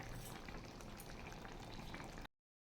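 Meat and new potatoes simmering in a covered pot over a low gas flame, giving a steady close bubbling and sizzling hiss that cuts off abruptly near the end.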